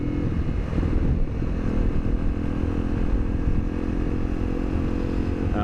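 A motorcycle engine of about 25 horsepower drones steadily during a ride, a loud, continuous rumble with wind noise and no speech.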